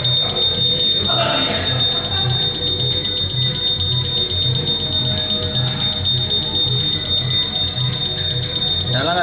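A fire alarm sounds during a fire alarm system test, a continuous loud pulsing ring with a high steady tone, while people talk over it in the background.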